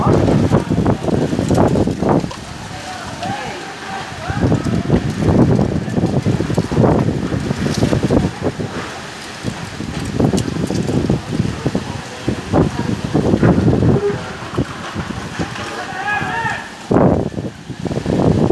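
Very strong wind gusts buffet the microphone in Pau Brasil, Bahia, loud roaring bursts rising and falling over eighteen seconds in a steady rhythm of surges.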